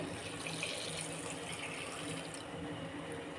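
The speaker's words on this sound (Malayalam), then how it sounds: "ഇതിൽ ആവശ്യത്തിന് വെള്ളം ഞാൻ ഒഴിച്ചു കൊടുക്കുന്നുണ്ട്" Water poured steadily into lentils (parippu) for sambar, ahead of pressure cooking; a continuous close splashing rush with no voices.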